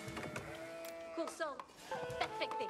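Sheep in the strategy game Age of Empires IV bleat several times in short wavering calls, fairly faint, mixed with a voice talking over them.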